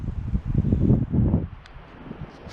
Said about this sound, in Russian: Вот это ветрище поднялся.